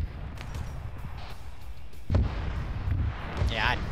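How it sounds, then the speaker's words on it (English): A plasma gun fires in a Warhammer video game amid a busy battle, with heavy booming bursts and a sharp thud near the middle, and voices talk faintly underneath. "Oh, it's the plasma gun."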